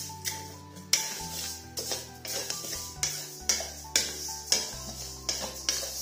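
Rice stir-fried in a pan over medium-low heat until lightly golden, with a steady rhythm of scraping spatula strokes and clinks roughly every half second, close and clear.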